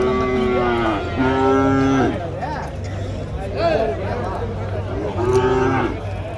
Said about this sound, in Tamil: நிறைய பசுங்க தாங்க